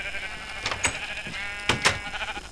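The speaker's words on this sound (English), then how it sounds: "sheep coming in" Sheep in the Minecraft video game bleat in a few short, wavering calls over a constant background hum.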